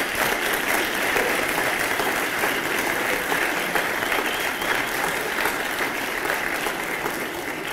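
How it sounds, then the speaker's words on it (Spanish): Large crowd at a political speech applauding, a thick continuous roar of clapping that holds steady and loud for several seconds, easing slightly at the end. "a mí me pone muy contento cuando aplauden a mi ministro de Economía"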